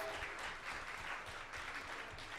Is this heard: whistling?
no